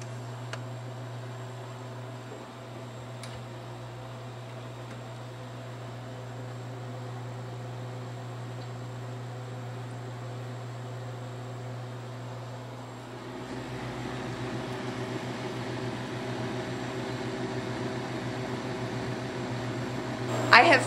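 A freeze dryer drying beef runs with a constant mechanical hum and tonal drone, joined partway through by a louder broadband whoosh of its pump or fan, steady and continuous without talk.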